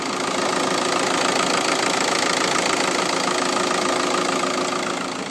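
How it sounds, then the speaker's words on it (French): A car engine idles steadily and evenly after a timing belt replacement done at home, a constant close mechanical hum with no pauses. "le moteur il tourne impeccable"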